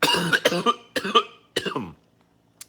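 Four harsh coughs in quick succession, close and fairly loud, followed by a brief quiet pause.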